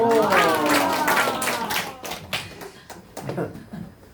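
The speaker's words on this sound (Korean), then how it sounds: "박수 부탁드리겠습니다" An audience at a Korean talk-show style event gives a round of clapping that starts loud and dense, then thins into scattered claps and fades, with voices talking and laughing underneath.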